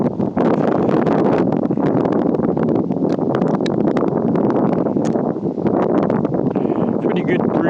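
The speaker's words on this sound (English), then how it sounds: "Pretty good breeze out here." A strong outdoor breeze buffets the microphone in a constant loud rumbling roar for the whole stretch, with a voice heard faintly under the wind.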